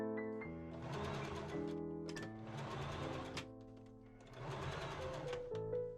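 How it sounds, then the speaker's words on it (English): A sewing machine runs in steady bursts of rapid stitching while joining long sections of green tartan fabric, pausing briefly between runs, close and clear with no talking. "I machine sew 2 long sections together."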